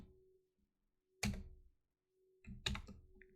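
Two short bursts of computer keyboard typing, close and fairly loud, separated by quiet pauses, with no talking.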